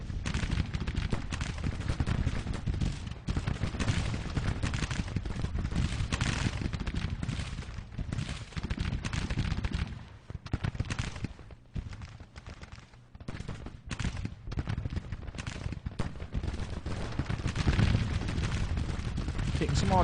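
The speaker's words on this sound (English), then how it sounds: "Taking some artillery fire here, but we're okay." Civil War-era musket volleys and artillery fire crackle in Grand Tactician: The Civil War, with dense, continuous popping and booming throughout a long battle, briefly thinning midway before building back up.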